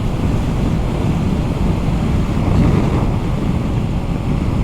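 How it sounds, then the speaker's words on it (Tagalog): Strong wind blowing on a mountain road near Wrightwood, California, a loud steady roar battering the microphone with low rumbling gusts, continuous and close with no voices. "Mahangin, mahangin."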